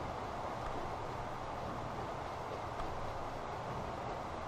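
Trains racing in the Transport Fever video game during a diesel finale, a steady, loud broadband rumble of rolling rail cars and engine noise running unbroken throughout, with no talk.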